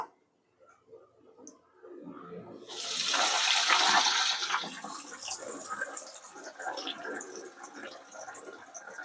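Vada pav patties for cheese vada pav dropped into hot oil, a sudden loud bubbling sizzle that swells after a quiet start, then settles into a softer, crackling fry close by.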